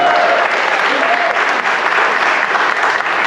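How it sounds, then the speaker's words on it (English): Dense, loud applause from a crowd at a Marco Rubio political rally in Tampa, Florida, a sustained wall of clapping and cheering that stays level for the whole stretch with no break. "Can you round of applause right here for this man?"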